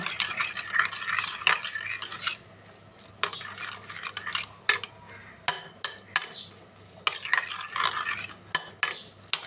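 A spoon mixes egg paratha filling with salt and green chillies in a bowl, giving close, repeated clinks and scrapes against the dish in uneven bursts. No one talks.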